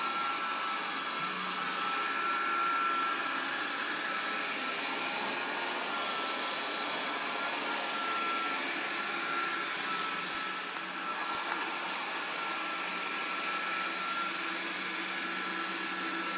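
A Proscenic 820S robot vacuum cleaner runs steadily, giving a constant airy whir with a faint tonal whine that holds at an even level throughout, with no voices.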